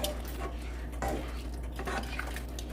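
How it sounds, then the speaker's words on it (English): A utensil scrapes and clinks in a pan while apple pie filling is stirred, with irregular soft strokes and taps at close range. "I'm going to ease it in and then I'm going to stir"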